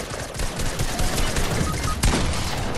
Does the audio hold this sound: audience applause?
no